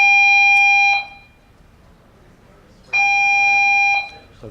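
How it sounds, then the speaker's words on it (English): Fire alarm blaring during a conference talk at The Next HOPE 2010, two loud steady electronic tones about a second each, separated by a gap, with faint room noise between them. "Is that a fire alarm?"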